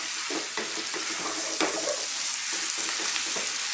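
Spice powders fry in a pan with beef and chickpeas for a curry, giving a steady broadband sizzle with soft scraping stir strokes every half second or so, close and continuous without talk.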